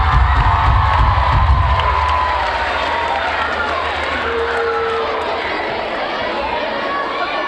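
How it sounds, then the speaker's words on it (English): A school crowd cheering and applauding for their teachers, a loud dense roar of children's shouts, claps and chatter filling the space throughout. "so give them all a great big round of applause"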